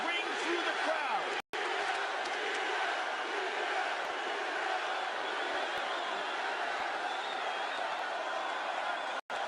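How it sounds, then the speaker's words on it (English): An arena crowd at a UFC fight between Conor McGregor and Nate Diaz chants Diaz, a dense, loud, continuous roar of many voices that barely lets up for the whole stretch. "the chants of Diaz ring through the crowd"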